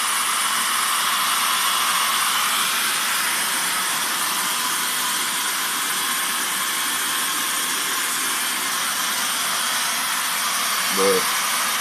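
A Dyson hair dryer running on its max setting gives a loud, steady airflow hiss that holds unbroken throughout, with a brief soft thump near the end.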